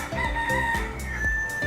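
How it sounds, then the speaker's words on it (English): A rooster crows in short repeated bursts, close and clear, with clucking chicken sounds between the calls. "the cock crows at sunrise"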